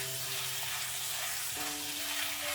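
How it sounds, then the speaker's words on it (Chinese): Sliced pork belly stir-fried in hot oil in a wok, a dense, even sizzle heard close throughout with faint steady tones beneath, no voices. "油热之后将切好的五花肉倒进来，快速的翻炒均匀"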